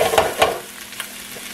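Mushrooms frying crisp in a pan are stirred and flipped over, two quick scraping tosses up front before the sizzle settles to a faint, steady crackle.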